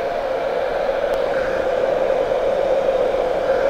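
A hair dryer without a nozzle blows steadily during haircut styling, a constant whooshing whir at close range with no speech.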